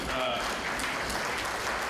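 Applause from a Wenham town meeting audience: steady, dense clapping that fills the whole short stretch, with a voice briefly audible near the start.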